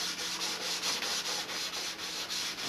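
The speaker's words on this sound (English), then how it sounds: "We're starting to go through some real sandpaper here." Sandpaper is rubbed back and forth over a model airplane fuselage close up, giving a rhythmic scratchy hiss of about a dozen even strokes with no talk.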